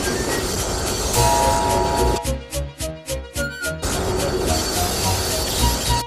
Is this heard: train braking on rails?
yes